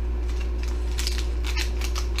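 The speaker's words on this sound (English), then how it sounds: "rip this one open too" Plastic packaging for CTC 3D printer extruder upgrade parts being torn open, a run of close crinkly rips and rustles over a steady low hum.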